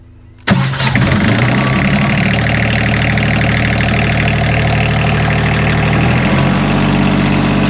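A diesel engine on a high-tech post driving trailer cranks and catches after a quiet moment, then settles into a loud, steady, slightly knocking idle close by that continues without a break.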